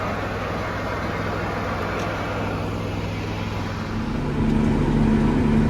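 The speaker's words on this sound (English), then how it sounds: "got the tender truck over here, putting product in. It's a 2-hopper tender truck" Two-hopper tender truck, one hopper split with fertilizer in front and seed behind, idling steadily while loading product in a field; a low continuous engine drone that grows slightly louder and rougher near the end, no talk.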